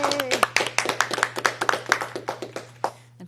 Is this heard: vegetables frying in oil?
no